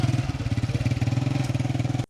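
A motorcycle engine chugs close and loud beside a canal bank in Punjab, its even, rapid throbbing pulse holding steady for two seconds before cutting off abruptly.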